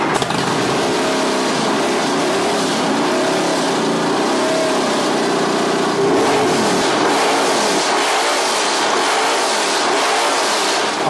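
A 7.6-litre Chevy big-block V8 roars very loudly and steadily for about eleven seconds, with rising and falling revs and no voices over it.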